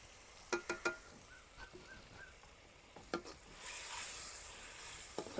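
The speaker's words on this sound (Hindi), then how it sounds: "तो अब इन सारी चीज़ों की भुनाई जो है वो इकट्ठी ही हो जाएगी।" Dry spices, salt, chilli, turmeric, coriander, tomatoes and green chillies frying in a pan, with sharp stirring scrapes and clatters first, then a soft sizzle that rises into a steady frying hiss, fairly faint overall.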